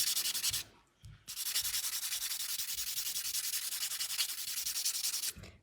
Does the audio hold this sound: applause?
no